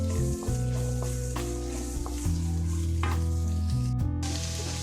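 Onions sautéing in a pan for a sprouts thoran, a steady close sizzle and frying hiss running continuously under low background music.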